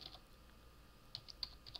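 Typing on a computer keyboard, a few soft, close key clicks with a sparse start and a quicker run of taps near the end.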